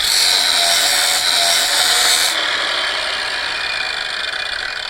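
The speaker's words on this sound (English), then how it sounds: "First we drill a 5 millimeter blind hole in a ball bearing ball." Machine drilling a 5 millimeter blind hole into a hardened ball bearing ball, a steady loud hiss and whine of cutting that drops in intensity partway through, alone with no talking.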